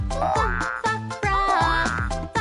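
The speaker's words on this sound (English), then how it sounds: "F is for frog." Frog croaking in a children's alphabet song, a series of loud, close, rubbery croaks in quick rhythmic bursts with wobbling pitch, alone without talk.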